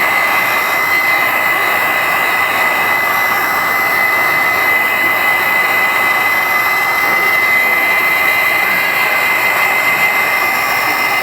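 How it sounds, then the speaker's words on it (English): A Wagner heat gun blows steadily on its low setting while warming a Samsung Galaxy S4 screen, a constant close whooshing whine of fan and hot air that holds unchanged throughout. "We're going to use our Wagner heat gun, put it on low"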